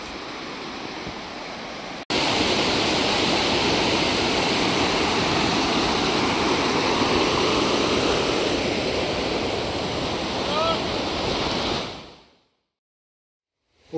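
A mountain stream flows down below in the Western Sayan range, giving a steady, loud broadband rush of water that starts abruptly, holds evenly for about ten seconds, then fades out, with no voices.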